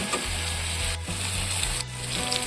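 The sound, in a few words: water added to hot fried masala, sizzling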